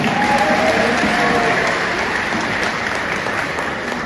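Audience applause at a Madurese community rally in Jakarta backing a gubernatorial candidate, a steady dense wash of clapping that holds evenly throughout.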